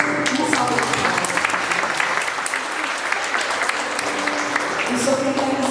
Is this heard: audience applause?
yes